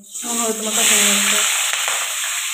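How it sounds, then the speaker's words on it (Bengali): Prawns dropped into hot oil burst into a loud, close sizzle that settles into steady frying hiss. "চিংড়ি মাছটা এখানে এখন ভাজা করে নিচ্ছি।"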